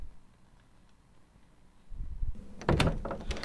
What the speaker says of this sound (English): as I opened the door.